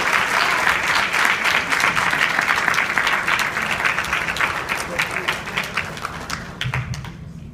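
At a national conference, an audience gives loud, continuous applause for U.S. Senator Bernie Sanders, with crisp individual claps standing out before it thins toward the end.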